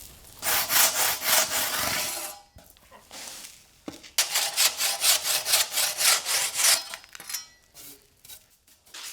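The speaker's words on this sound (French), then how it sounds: "Il faut reporter les mesures et scier l'élément." A building element is sawn by hand during interior rendering work, with steady rhythmic back-and-forth strokes in two close, loud runs separated by a brief pause and a few knocks.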